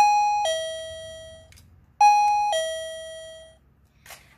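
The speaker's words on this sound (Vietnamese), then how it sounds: "tiếng nãy giờ là tiếng chuông ha, tiếng chuông" A wireless doorbell on an AT-216 alarm unit sounds a two-tone ding-dong chime twice, about two seconds apart, loud and clear in a quiet room, followed by a faint click.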